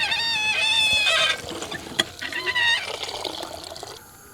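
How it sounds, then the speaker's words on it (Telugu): Water is poured from a vessel over about four ladles of leftover cooked rice until it is just submerged, a steady trickling gush that fills for a second or so before settling into softer splashes. "అన్నం మునిగే వరకు మాత్రమే నీళ్లు పోసుకోవాలండి"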